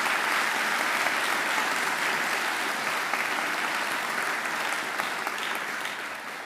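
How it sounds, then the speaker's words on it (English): A large audience at a Macquarie graduation ceremony gives sustained, dense applause from start to finish, easing slightly at the very end. "They deserve a great round of applause."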